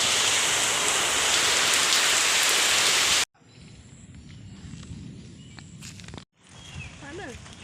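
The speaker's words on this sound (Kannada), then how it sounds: "ನೋಡಿ, ಅಲ್ಲಿ ಜೋರು ಮಳೆ ಬರ್ತಾ ಉಂಟು." Loud, dense rain pours steadily for a few seconds, then cuts away to quieter surroundings with faint movement and brief sounds.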